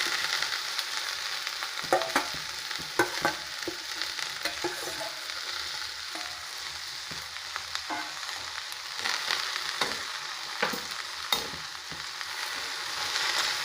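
Chopped okra frying in a pan with turmeric and asafoetida, a steady close sizzle with scattered sharp crackles and occasional stirring clicks, no voices.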